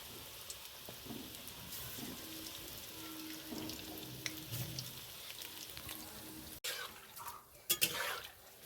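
Prawn and coriander fritters fry in hot oil, a steady low sizzle and crackle running throughout, with a sharp clatter of a utensil near the end.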